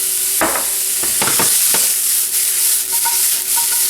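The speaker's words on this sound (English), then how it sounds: "You're going to pan roast these for about 5 minutes." Wild salmon fillets seasoned with pink salt and black pepper sizzling as they pan roast, a loud steady fry with a few sharp spatters and stirring clicks close by.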